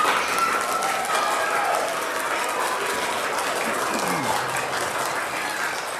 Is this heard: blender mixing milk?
no